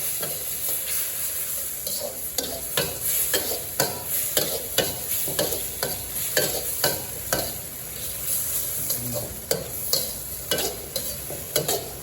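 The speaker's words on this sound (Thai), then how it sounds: "เล่นไปคนกุ้ง" Shrimp stir-fried in a wok for dry-fried yen ta fo, a steady loud sizzle with frequent sharp scraping and clacking strokes of the spatula.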